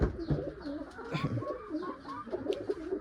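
Domestic pigeons coo in low, throaty repeated calls at close range, with other bird sounds and faint voices in the background.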